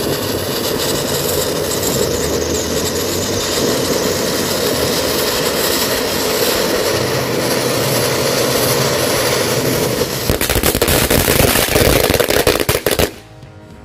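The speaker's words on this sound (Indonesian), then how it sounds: "Yang selanjutnya mercon air mancur Conic Fountain." A Conic Fountain firework fountain burns with a loud, continuous roaring hiss and crackle, turning rougher and sputtering near the end before cutting out suddenly.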